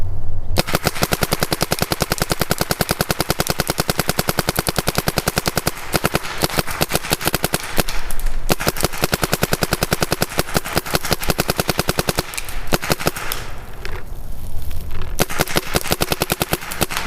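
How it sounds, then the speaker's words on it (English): A Planet Eclipse ETEK3 paintball marker fires in long, very rapid bursts, a dense steady stream of sharp pops, loud and close, with only a few brief pauses. "Well, the gun shoots absolutely perfect. I would expect nothing less from a Planet Eclipse marker."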